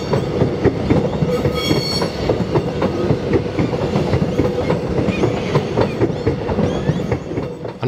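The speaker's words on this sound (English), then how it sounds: "The track on the bridge is also a rare remnant section of jointed rail, which contributes to its distinctive soundscape, namely what is known in technical terms as the clickety-clack" Train wheels clatter across the jointed rail of the Eltham trestle bridge, a steady, rhythmic clickety-clack that repeats for the full length, close and continuous, with no voices.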